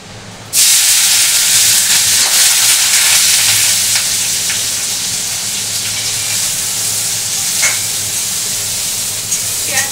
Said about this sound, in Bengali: লোটে মাছে জিরা একটু ফোড়ন দিয়েছি, আর দিয়ে দিচ্ছি পেঁয়াজ কুচি